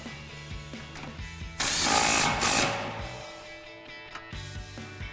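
A power tool briefly whirs to tighten an 18mm nut on a sway bar link during a front strut install on a 2005-2010 Mustang, with a loud one-second burst between softer clicks and ratcheting taps.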